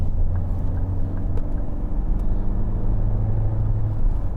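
A 2011 Ford Mondeo 2.0 TDCi Zetec estate accelerates with a steady low diesel engine rumble heard from inside the cabin, droning continuously with faint road noise and no talk.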